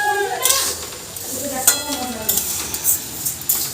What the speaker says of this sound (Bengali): মুসুরি ভাজা।